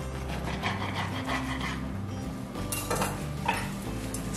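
A knife slices through a loaf of homemade bread, giving a rough sawing scrape with light clinks of cutlery and dishes against a steady low background hum.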